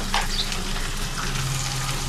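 Sliced green chilies and crushed garlic frying in hot oil, a steady close sizzle running throughout with no voices.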